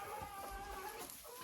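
Crested hens cluck in their enclosure, soft close clucks over a low steady background with no talk.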